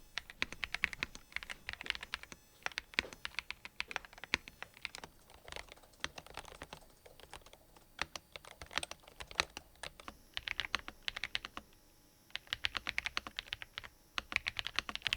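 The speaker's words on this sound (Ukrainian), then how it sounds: "Ось так звучать ці клавіатури." Rapid, uneven bursts of typing on Ajazz wireless mechanical keyboards with sharp clicky keystrokes, close and fairly quiet, pausing briefly now and then.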